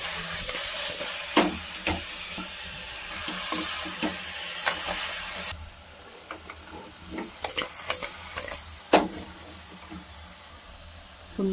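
Goat head meat goes into a pan of frying onions, a soft steady sizzle with stirring and scraping knocks, growing quieter partway through as the cooking continues.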